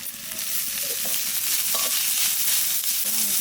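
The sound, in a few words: chopped green chili frying and stirred in pan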